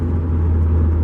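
A tuner car's engine running, a steady, loud low rumble heard up close for about a second with no voices.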